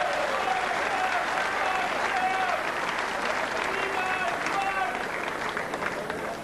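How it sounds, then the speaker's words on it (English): A snooker crowd at the 2004 World Championship final stands and applauds, dense sustained clapping filling the hall throughout, with a commentator's voice faintly running underneath. "the crowd stand and applaud"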